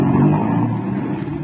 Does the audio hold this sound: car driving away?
yes